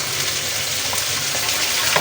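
Chopped onion tossed into frying minced meat for aloo keema, a steady loud sizzle with faint stirring scrapes throughout and no talking.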